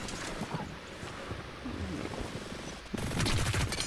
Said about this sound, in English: I think I kinda like that the headshot sound effect.